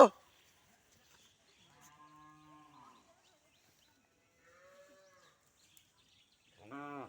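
Several low cow moos, the first ones faint and distant, then a louder, closer moo right at the end, with quiet gaps between calls.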